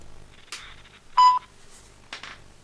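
Electronic tones on a phone line, with a few short bleeps and a single loud steady beep in the middle marking the start of a call, alone and close.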